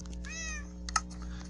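Cats meowing in a video game, a single clear rising-and-falling meow followed by a short sharp game click, heard over a steady low background hum.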